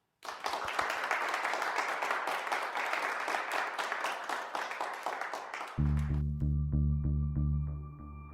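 An audience at a singing contest breaks into dense, loud applause that runs for about five seconds before stopping abruptly as instrumental music begins.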